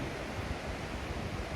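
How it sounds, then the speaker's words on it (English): Water rushes far below a hiking trail near Juneau, Alaska, heard as a soft, steady broadband wash with no distinct splashes or voices over the short stretch. "just listening to the water"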